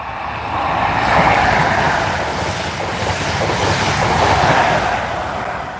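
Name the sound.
train arriving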